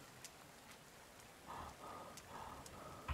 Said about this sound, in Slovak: začal pršať